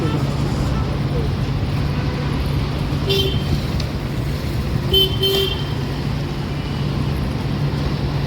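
Steady rumble of road traffic from vehicles behind a car on a road near Lonavala, with a few short horn toots around the middle and end over a constant engine hum.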